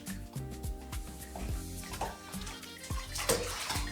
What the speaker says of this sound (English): I just will dunk it in the water that has the baking soda in it.